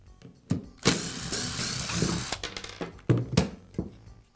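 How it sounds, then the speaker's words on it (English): Rear handle being taken off a Makita belt sander during a power cord repair, with a whirring screwdriver burst, clicks and knocks of plastic parts close by, and no talking. "I'll begin by removing one side of the rear handle."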